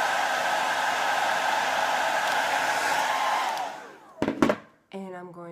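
Heater blowing hot air onto a Jamberry nail wrap, a loud steady whoosh for about four seconds that cuts off, followed by a brief rustle and a short bit of talk.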